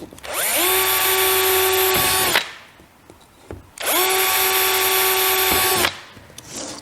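A power drill bores two holes in a Flexi Rack for a Handi Quilter Loft frame, each a loud, close, high whine lasting about two seconds that ends abruptly, separated by a short pause.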